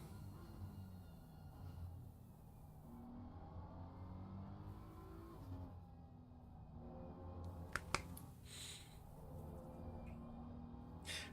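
A BMW race car engine in Assetto Corsa drones steadily at fairly low level during an endurance race at Indianapolis, its pitch shifting through gear changes, with a couple of sharp clicks near the end.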